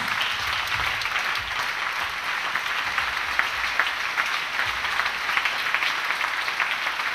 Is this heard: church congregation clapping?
yes